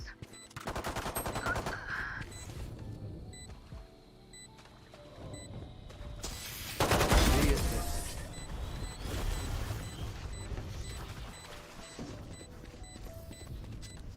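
Gunfire bursts out in the Sherlock Holmes Chapter One video game, with rapid rattling volleys early on and a heavier, louder crash of shots midway, followed by lighter scattered fire.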